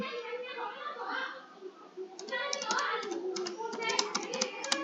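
Light key clicks from typing on a computer keyboard run under someone talking, becoming sharper and more frequent in the second half.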